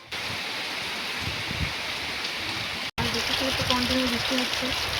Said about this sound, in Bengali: আজকে তো আমাদের এখানে প্রচুর বৃষ্টি হচ্ছে।